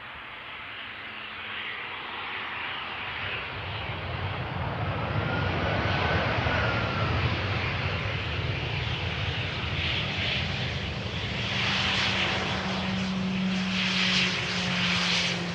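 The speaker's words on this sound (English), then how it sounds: "There she is, it is an A318, the baby bus." An Airbus A318 jet on landing approach at Schiphol swells from a distant rumble to a nearer, louder roar, with whining engine tones rising toward the end and no talk.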